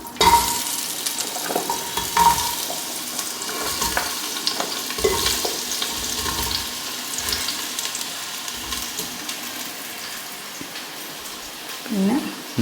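Pieces of elephant foot yam go into hot coconut oil for an avial mixed-vegetable curry, giving a steady sizzle and frying hiss with scattered stirring clatter, fairly close, while a voice talks intermittently.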